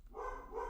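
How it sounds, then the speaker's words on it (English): A dog barks twice in quick succession, a short muffled pair of yaps heard alone at moderate distance with a faint low hum beneath. "My dog is barking."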